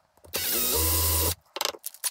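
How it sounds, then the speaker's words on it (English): Power drill boring small holes in a leather knife sheath: a single steady whirring burst of about a second, close and loud, followed by a few short clicks and handling knocks. "we're going to get the drill out and drill little holes at all four of these edges."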